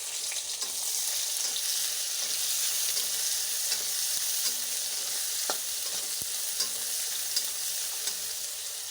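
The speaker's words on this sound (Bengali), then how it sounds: "পেঁয়াজগুলো লাল লাল করে ভেজে ফেলবো" Onions fry in a pan, a steady close sizzle running throughout with occasional scrape and clack of a spatula stirring them, no voices.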